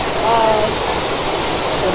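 Bukal Waterfalls in Majayjay, Laguna, Philippines, a hidden falls with clear water, gives a steady, loud broadband rush that fills the whole clip without pause, with a brief faint tonal sound early on.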